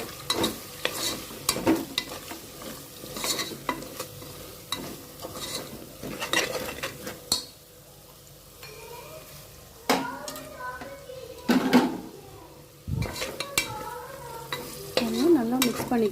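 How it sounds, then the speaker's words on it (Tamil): Chili, turmeric and coriander powder being stirred into frying onions in a pan, with repeated scraping stirs and clinks of a spoon over a soft sizzle, close and moderately loud, with brief faint sounds between strokes. "நல்லா மிக்ஸ் பண்ணிக்கிறேன்."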